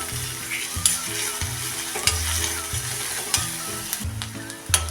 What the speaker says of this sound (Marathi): कांदा बघा कसा छान भाजत आलेला आहे